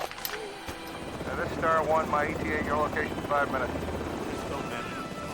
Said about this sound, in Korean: 우여곡절 끝에 헬기가 착륙 지점에 이르자